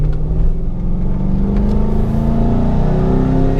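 A Jeep JK with an LS 6.0 V8 running a 6.2 tune, its engine revving close and loud, a deep rumble rising smoothly in pitch as the throttle is pressed, with no talk.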